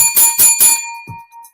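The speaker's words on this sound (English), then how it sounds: "I'm not getting the performance from my bell that I require." A boxing ring bell at the Daniel Dubois vs Bogdan Dinu fight is struck three times in quick succession. Its bright, loud metallic tone then rings on and slowly fades, with a dull thump near the end.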